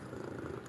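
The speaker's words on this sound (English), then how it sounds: "Charlie's currently purring" Charlie the cat purring close by, a soft steady low rumble held evenly through a brief moment with no voices over it.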